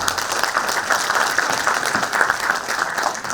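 Seminar audience applause, dense and sustained clapping from a sizable crowd in a hall, steady and fairly loud throughout, with no talking.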